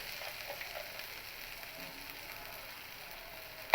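Spices with red chili powder gently sizzle in oil in a pan for a pabda fish curry, a faint, steady frying hiss with a soft clatter at the very end.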